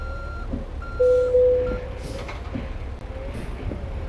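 Truck reversing alarm in American Truck Simulator, a few steady electronic beeps repeating at an even rhythm over a low engine rumble while backing up to hook a trailer.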